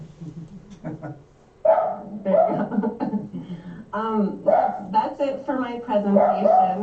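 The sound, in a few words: dog barking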